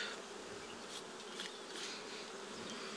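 Honeybees hum in a dense, steady buzz at an open hive during a swarm check, a close, continuous drone with no pauses.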